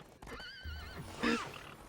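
A horse in a video game gives one loud whinny that rises and falls over low game noise, with a faint clip-clop underneath.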